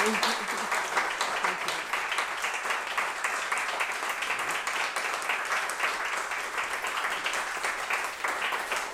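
An audience applauds steadily after a personal story is shared at a Rising Heart gathering, a sustained wash of many hands clapping at moderate volume with no pauses.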